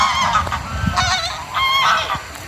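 A flock of geese, a white goose among them, honks noisily outdoors by water, with overlapping calls in quick succession, fairly close and steady, and no talking.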